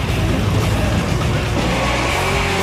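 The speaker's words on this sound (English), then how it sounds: "It had to have a wonderful, menacing exhaust tone." A powerful V8 American muscle car roars steadily and loudly throughout, its deep, menacing exhaust rumble filling the whole stretch with no voices.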